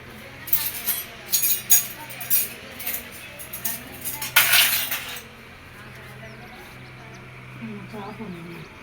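Metal spoons clink and rattle in a quick cluster of sharp bright taps as they are set out. The clinks stop, and a softer, quieter stretch follows, with voices faintly present.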